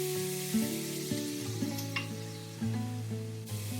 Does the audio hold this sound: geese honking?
no